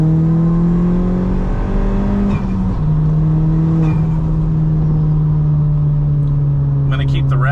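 A Ford Fiesta ST in third gear revs from inside the cabin, its engine note droning loudly and steadily, dipping briefly around a shift and then holding a constant pitch.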